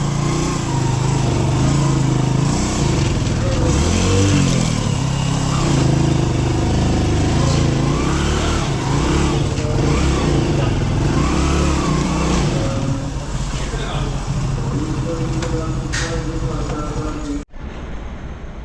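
A Hero Passion Pro motorcycle engine labours uphill on a trip route, a loud continuous drone with rising revs, close and sustained, briefly dropping out near the end.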